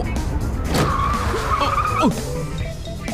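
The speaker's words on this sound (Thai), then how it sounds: "เจียงจินเธอขับดีๆได้ไหมเนี่ย" A car driven recklessly fast swerves with loud, close tire squeals and skidding over a steady engine roar, one sharp screech standing out near the end.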